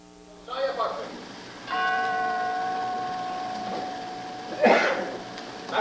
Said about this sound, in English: McKenna, go ring the bell